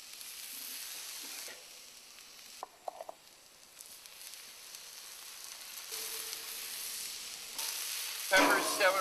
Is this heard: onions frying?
yes